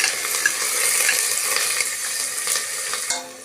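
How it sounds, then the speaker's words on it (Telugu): Chopped onions, green chilies, bay leaves and spices fry in two tablespoons of oil, a loud close steady sizzle with scraping stirs of a utensil against the pan, ending in a sharp knock. "ఆనియన్స్ ఇలా ఫ్రై చేసుకోవాలి"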